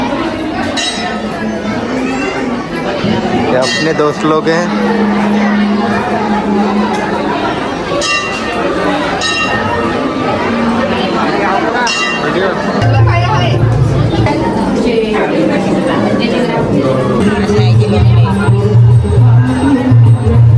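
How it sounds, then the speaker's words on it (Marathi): A large crowd chatters in a dense, continuous babble at a busy fair, with occasional bell clinks ringing through the din and someone talking close by over it. "यहाँ पे देख सकते हो कितनी बड़ी गर्दी है"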